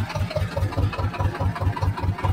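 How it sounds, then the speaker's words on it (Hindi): Swaraj 724 tractor pulling a 6x6 disc harrow, its diesel engine chugging in a steady, rhythmic low thump as it runs and turns in place, loud and close with no talk over it. "अब बिल्कुल एक जगह पे घूम जाएगा ट्रैक्टर वो वहाँ का वहीं देखो"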